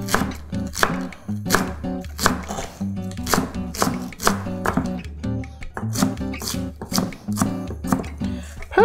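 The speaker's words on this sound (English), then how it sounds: "I'm just gonna sort of shred this just by cutting it into little julienne" A knife shreds romaine lettuce into fine julienne strips on a cutting board, making a steady run of sharp, evenly spaced chopping thuds, close and clear, with no one talking.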